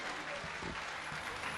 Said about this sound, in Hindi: कृपया जोर से तालियां बजाइए खुद अपने लिए।